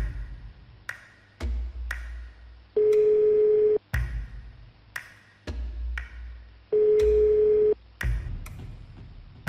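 A telephone busy signal repeats over an unanswered call, with regular tone bursts alternating with clicks and longer steady beeps, heard alone and fairly quiet.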